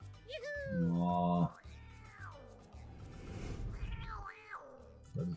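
A cartoonish cat meows in Type:Rider on PS4, with two or three stretched, rising-and-falling cries standing out over a busy game soundtrack and some talk.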